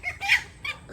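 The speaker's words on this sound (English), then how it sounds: "That was a hen clobbered the rooster." Hen attacking a rooster in a chicken run, two quick loud squawks in about a second, close and harsh, with no talk.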